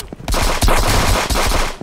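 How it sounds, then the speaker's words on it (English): Loud, close shotgun blasts fire in quick succession in a video game, sharp booming reports with rough noisy tails in a fast volley. "Bro brought out the shotgun."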